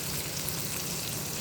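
Dried fish frying in soybean oil with onion and chili, a dense, even hiss of hot oil that runs close and constant throughout.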